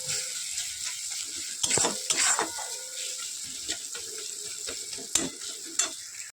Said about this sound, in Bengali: আর এখানে মশলাটা এখন কষাচ্ছি।